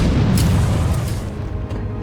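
A grenade blast in the video game Batman Arkham City: a loud, dense, booming rumble that fills the whole moment, with a couple of sharper bursts inside the sustained roar and no voices.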